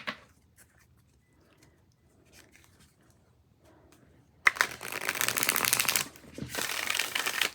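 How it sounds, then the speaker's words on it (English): Oracle cards from a new Spirit Animal deck being shuffled, first as a few faint light taps and slides, then two loud, close riffling bursts of stiff card stock. "So let's give these a shuffle real quick to see how these go."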